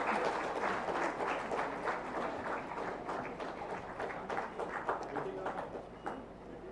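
Loud, sustained applause from a crowd at a Jharkhand state sports award ceremony honouring athletes, steady dense clapping filling the whole stretch with a murmur of voices underneath.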